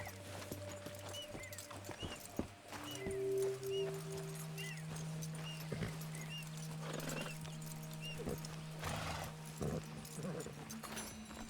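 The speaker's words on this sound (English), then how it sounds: "pegamos um cavalo" A horse in the Red Dead Redemption 2 video game, with soft clip-clopping hooves and a brief whinny over quiet ambient game sound and low background tones.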